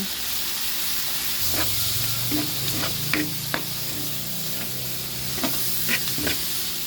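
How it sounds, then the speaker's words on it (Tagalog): Mushrooms sauté in a frying pan already used for cooking, giving a steady, close sizzle and hiss with scattered clicks and taps of a stirring utensil against the pan. "Dito na rin tayo magigisa sa ating pinaglutuang kawali. Ilagay na natin ang ating mushroom."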